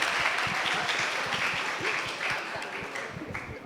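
Audience applause at a church gathering, a dense steady patter of many hands clapping close and moderately loud, sustained throughout without talking over it.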